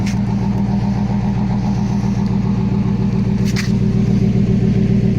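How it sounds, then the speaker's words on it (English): Toyota Celsior idling with its rear mufflers deleted and front mufflers still fitted, giving a steady, deep, loud exhaust rumble that holds even throughout with no talking. "So she got a decent exhaust note to her."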